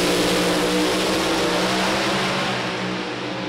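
A Chevrolet Camaro-bodied race car on an oval track roars at high revs, a loud sustained engine wash that fades slightly as it passes by.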